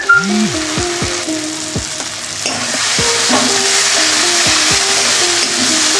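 Spice paste sizzles and crackles steadily in hot oil in a Bengali kitchen, cooked down until the oil separates, with repeated scraping strokes of a spatula against the pan throughout.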